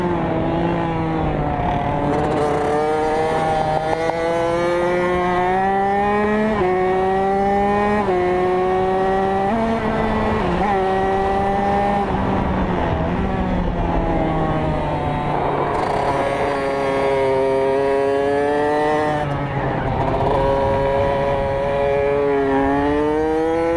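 A Kawasaki KX65 motorcycle lapping a race track, its small engine whining loudly and continuously as it revs up and down through gear changes and corners, close and unbroken.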